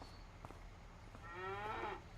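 A single cow lets out a low, drawn-out moo on a cattle ranch in Farming Simulator 25, rising midway through the clip over a steady ambient hum, fairly near and moderately loud.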